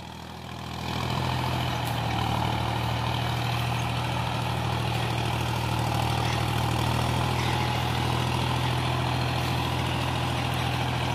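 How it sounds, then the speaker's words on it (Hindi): A John Deere 5310 tractor pulling a 2 MB plough deep through field soil at dusk: a steady, loud diesel drone that holds an even, unbroken pitch throughout, with no talk. "वैसे काफ़ी गहराई लेकर चल रहा है ट्रैक्टर, देख सकते हो आप"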